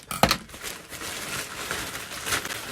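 Crinkly plastic mailer packaging from a clothing haul rustling and crackling as it is cut and pulled open, with a sharp louder burst near the start and continuous close, soft crinkling after.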